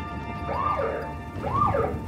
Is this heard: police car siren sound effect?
yes